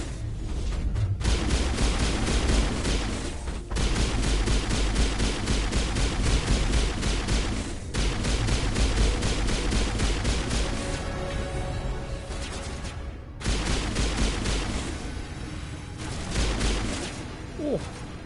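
Gunfire in the Mass Effect video game: sustained, loud rapid-fire shooting close by, running almost without pause in long bursts with a few brief gaps and heavy low thuds underneath.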